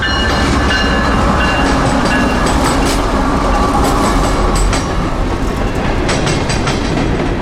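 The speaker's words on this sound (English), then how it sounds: "down came L772 and that newly painted CSX Family Lines Heritage unit in trail" A CSX freight train, with a Family Lines Heritage locomotive in trail, rolls steadily past up close, a continuous loud rumble with rhythmic clatter of wheels over rail joints and occasional metallic squeals.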